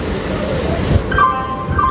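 A train stands at Bhubaneswar station, its low mechanical rumble and rolling noise steady and near, with a thin squeal-like tone rising toward the end.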